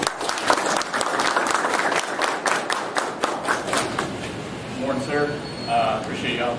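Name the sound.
audience applause welcoming a guest speaker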